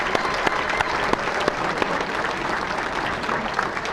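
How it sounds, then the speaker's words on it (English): At the 2014 Pennsylvania Sports Hall of Fame banquet, the audience applauds the evening's honorees with a full, steady roar of clapping from a large room, unbroken throughout. "please, a round of applause for our 14 honorees here tonight"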